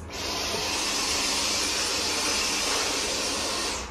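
A Dyson Omniglide cordless vacuum cleaner running indoors in a rented home, a loud, steady, close whooshing whine held evenly throughout with no voices.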